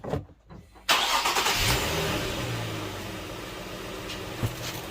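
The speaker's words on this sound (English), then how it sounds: "let's go start the engine" An Infiniti G car engine cranks and catches after a brief quiet moment, then settles into a steady idle nearby.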